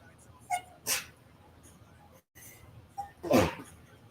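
A person sneezes twice during a podcast, a small first sneeze and a louder, sharper second one a few seconds later, close up over a quiet room with faint background noise.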